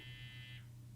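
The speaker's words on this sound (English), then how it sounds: "A phone rang." A phone rings in the visual novel game Chaos;Child, a steady electronic trill for about half a second that then cuts off, leaving a low hum in the background.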